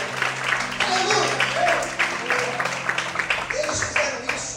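A church congregation claps and applauds steadily throughout, a dense ongoing patter of hands mixed with voices, under a preacher's amplified speech and background music.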